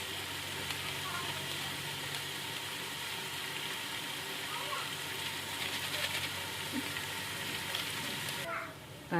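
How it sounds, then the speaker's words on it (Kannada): Cooking oil heating in a pan while preparing festival dishes such as holige, giving a steady, close sizzling hiss that runs unbroken throughout, with a brief clatter near the end. "ಸ್ವಲ್ಪ ಎಣ್ಣೆ ಕುದಿಬೇಕು ರೀ ಚೆಂದಾಗಿ"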